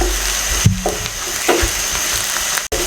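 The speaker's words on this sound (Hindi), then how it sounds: "हल्का सा इसको भी इसमें फ्राई कर लें" Crushed coconut with garlic, ginger and chilies frying in a pan, a steady close sizzle with a few stirring scrapes and clinks.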